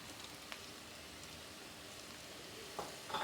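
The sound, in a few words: garlic ginger paste added to frying onions, sizzling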